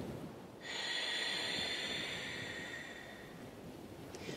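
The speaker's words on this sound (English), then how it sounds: "When you breathe out, close your mouth and match that sound," A long, steady closed-mouth exhale with a soft, rushing hiss like ocean surf, rising then slowly fading.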